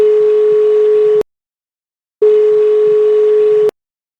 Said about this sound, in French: Le Père Noël, vaguement inquiet, se décide à appeler Mère Noël.